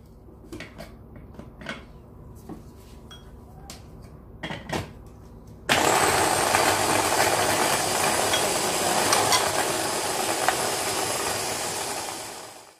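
A blender grinds whole lemons with their peels and a little water. A few clicks and knocks come first, then the motor starts abruptly and roars loud and steady for several seconds before stopping. No one speaks.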